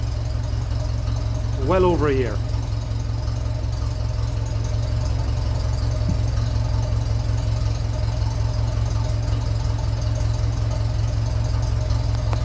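A 1957 Ferguson 35 tractor with a TVO engine and vertical exhaust idles with a steady, loud low chug throughout, while someone speaks briefly over it.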